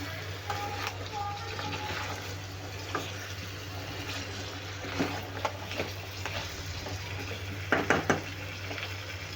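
Crab curry is stirred in a pot, with soft scraping and occasional sharp clinks of a spoon against the metal over a low steady hum, while a person talks.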